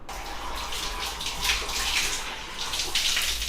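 Tap water runs continuously into a bath while a baby is washed, a steady close splashing rush with faint surges and no talking.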